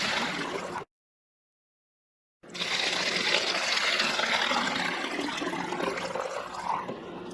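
Water rushes steadily from a water purifier tap into a bottle, filling it fast. The strong broadband gush stops briefly, then restarts and carries on at an even level close by, with no talking.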